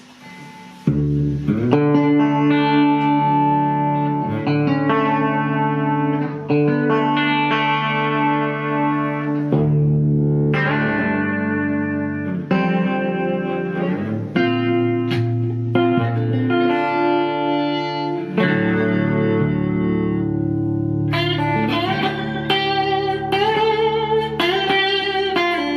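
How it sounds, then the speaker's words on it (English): Electric guitar played through a Projector amp with reverb and an ambient delay, sustained chords and melodic phrases ringing out with long washy tails and repeating echoes, loud and continuous with no talking. "I'm going to put the reverb back on."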